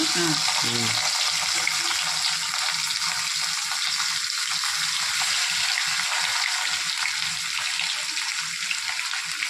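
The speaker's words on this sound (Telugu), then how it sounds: "చేపలు ఫ్రై చేస్తున్నావా చేపలు ఫ్రై ఫిష్ ఫ్రై చేపలు వేపురా" Fish frying in a pan, a steady, loud, broadband sizzle running throughout, with a brief voice near the start.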